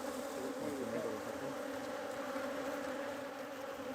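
Bees hum steadily at beehives in Beirut, a continuous close buzzing drone that fills the whole stretch without pause or talk.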